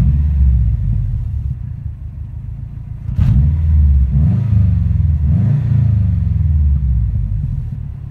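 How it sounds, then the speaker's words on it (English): A turbocharged car engine with boost running near 20 psi, heard as a steady deep rumble that swells in two or three revs, loud and close with no talking. "you'll be able to hear the car."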